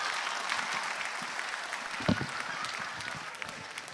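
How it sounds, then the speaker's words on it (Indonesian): A studio audience at a televised stand-up comedy competition applauds the comedians Torik and Upit, a steady wash of many hands clapping at moderate level with a brief louder thump midway. "Beri tepuk tangan untuk Torik dan juga Upit"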